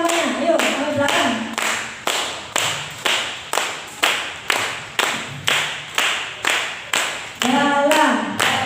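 Workshop audience at a literacy training session clapping together in a steady rhythm, a long run of evenly spaced loud group claps, with a voice talking at the start and end.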